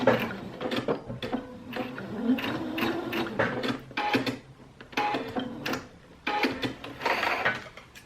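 A sewing machine stitches a bench cushion with boxed corners along a pinned seam, running in bursts of steady mechanical whirring and clatter broken by short pauses, including a brief back stitch, close and without talking.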